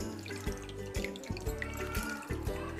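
Water runs and drips steadily from fresh chhena, lemon-curdled milk cheese, as it is squeezed in a cloth. The trickle is close and continuous, with soft rhythmic pulses as the cloth is wrung.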